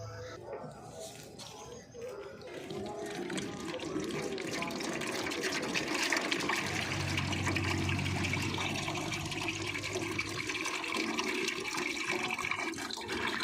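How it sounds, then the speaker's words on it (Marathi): Water is poured steadily into a container set out for ants, making a continuous splashing, trickling stream with faint background sounds. "आता मी याच्यात टाकणार आहे पाणी"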